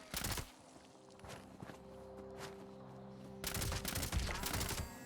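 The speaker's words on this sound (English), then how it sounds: "You're going to have to just kind of shoot them." Gunfire in Fallout 76 aimed at Brahmin, cattle-like creatures: a rapid burst of shots at the start, a quieter stretch with faint scattered taps, then a longer dense volley of rapid shots toward the end.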